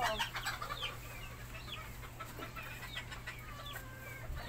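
Pet chickens being fed cluck and chatter continuously, with several overlapping birds calling close by over a low steady hum.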